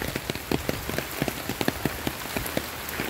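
Rain patters steadily at Cagsawa Ruins near Mayon Volcano, with dense close drops striking a surface in an irregular, continuous rhythm.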